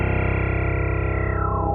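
A guitar effects unit on an expression setting puts out a loud, sustained, harsh droning tone with stacked harmonics, wavering slightly before its pitch shifts near the end, with no talking.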